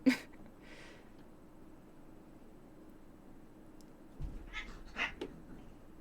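Cats meow and yowl in a quiet room, with a couple of brief cries early on and a short scuffle of snarling yowls later, faint against a steady low hiss.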